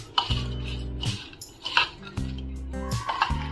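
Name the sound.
mixing papad koshimbir salad with spoon in bowl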